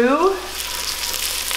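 Chopped onions sizzle loudly in a pan just before flour goes in for a roux, a short close hiss following a brief utensil squeak at the start.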